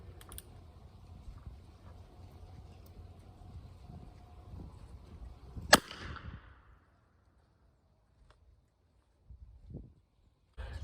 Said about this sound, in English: now we're going to try that in the revolver